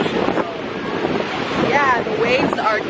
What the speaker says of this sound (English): the waves are killer right now